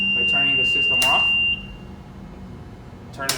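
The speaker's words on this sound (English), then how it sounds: "If you were to depress the emergency stop, you're going to have an alarm" A generator control panel's emergency stop alarm gives a steady, piercing electronic tone for about a second and a half, then cuts off, leaving quieter background noise and a voice.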